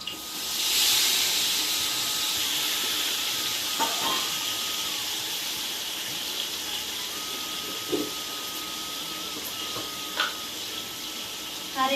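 Tomatoes and curry leaves sizzling in hot oil, a soft steady hiss with a few faint clinks and taps of utensils, quiet and close.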